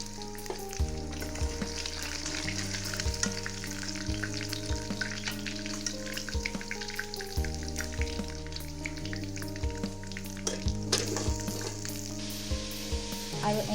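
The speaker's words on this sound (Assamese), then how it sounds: "আৰু এনেকৈ মই গোটেইখিনি মাছ ভাজি ল'ম" Shol fish frying in hot oil in a home kitchen, a steady close sizzle with crackling bursts and occasional stirring clinks, with no voices.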